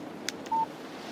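Phone text message alert in the Alan Wake game: two quick bright chirps, then a short clean electronic tone, heard alone over a faint background hum.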